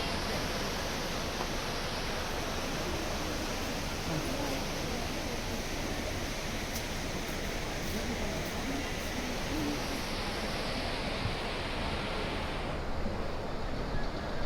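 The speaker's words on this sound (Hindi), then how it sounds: "ये अलकनंदा नदी है।" The Alaknanda river flowing through the Himalayas near Mana village and Badrinath makes a loud, steady rush of water that fills the whole stretch without a break.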